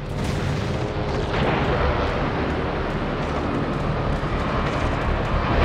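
Loud, continuous rumbling barrage of explosions and heavy booms as an enemy destroyer sinks in a naval combat video game, dense and sustained throughout with no quiet gaps.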